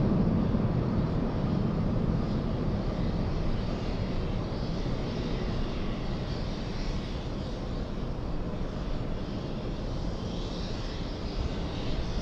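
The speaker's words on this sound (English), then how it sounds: "taxi lights have activated on the Delta Airlines A350. Already on the move." A Delta Airlines Airbus A350 airliner taxiing at LAX, a steady, loud engine roar and whine that stays constant throughout with no talk.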